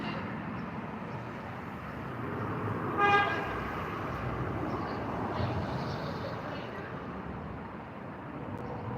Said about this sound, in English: I'm getting honks